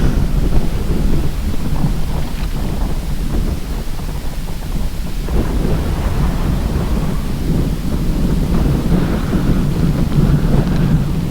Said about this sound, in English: All right, wind, that's enough.